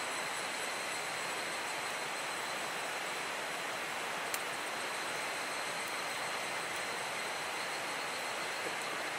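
A broad, steady roar of a train running along the tracks beside a river, constant and moderately loud with a faint high whine on top.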